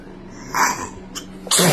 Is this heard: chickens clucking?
no